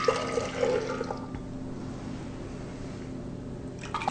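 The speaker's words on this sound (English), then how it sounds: "you're going to take 15 ounces of barley water, one with 8 ounces, and we just add that to the pitcher" Barley water is poured into a pitcher, a soft, fairly quiet trickling and splashing of liquid that is busier at the start, settles to a low steady flow, and picks up again at the end.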